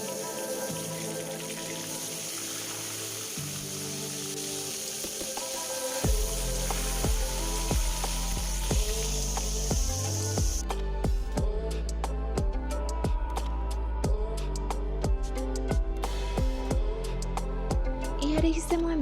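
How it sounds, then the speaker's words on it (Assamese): Fish sizzling in hot oil in a wok, a loud dense crackle that sets in partway through, with sharp spattering pops over a continuous fry hiss and some clattering. "এতিয়া এখন কেৰাহীত তেলখিনি গৰম কৰি তাতে মাছকেইজনী ফ্ৰাই কৰি ল'ম।"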